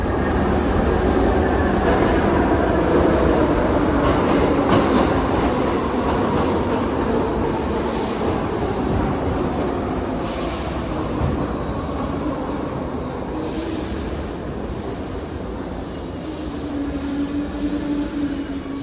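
A New York City subway train running steadily, a loud continuous rumble with rattling wheels and occasional squealing tones, heard from inside the car.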